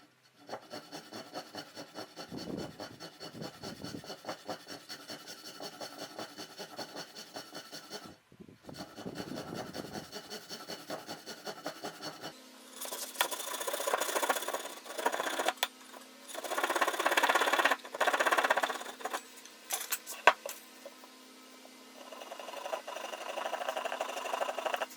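Sawing off the outside face of a wooden leg tenon produces rhythmic rasping strokes, quieter at first and then louder and harsher in the second half, close and without talk.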